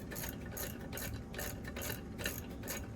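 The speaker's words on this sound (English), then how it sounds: "I'm just putting this top bolt in here" Top bolt being fitted by hand into the cylinder head of an LQ4 engine, heard as a steady run of quick mechanical ratcheting clicks, close and fairly quiet.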